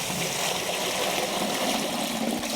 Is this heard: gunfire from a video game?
no